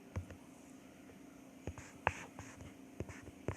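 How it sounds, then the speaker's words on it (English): Pen or pencil writing on paper while working a statistics problem, faint scratchy strokes and light taps coming in short, irregular bursts against near silence. "Let's write that down."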